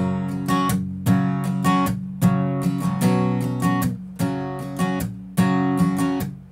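Close, bright acoustic guitar strumming a quicker down-down-up pattern with muted chops, for a country song tutorial, played alone at an even tempo.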